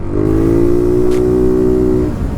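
A 2016 Yamaha Zuma 125 scooter with its airbox removed revs up once close by, a strong steady engine tone rising and holding for about two seconds before easing off, with no talking.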